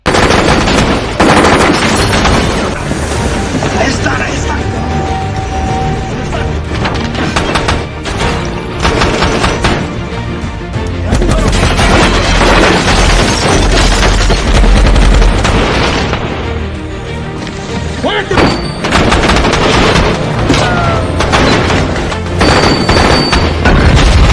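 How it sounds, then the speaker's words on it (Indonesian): Sustained automatic gunfire with heavy bursts and booming impacts fills a war movie firefight as terrorists open fire on a Navy SEAL team, loud and nearly continuous throughout. "Teroris tersebut langsung bersiaga dan menembaki mereka."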